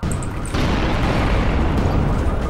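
Massive Humvee explosion in Roblox Anomic, a loud, close, roaring blast that hits after a brief lead-in and sustains as a dense, rumbling burst to the end.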